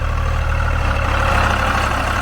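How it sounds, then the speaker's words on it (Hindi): A 1999 Swaraj 735 tractor with a Kirloskar engine runs close by in low gear, its heavy diesel throbbing at an even, deep pulse, loud and continuous with no voices over it. "ये हमारा 1999 मॉडल ट्रैक्टर है भाई, और आप इसकी आवाज़ सुनो ऐसे"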